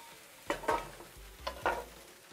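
Chicken pieces sizzle quietly in a Dutch oven while a stirrer scrapes through them, giving two pairs of short scraping strokes over a soft background crackle.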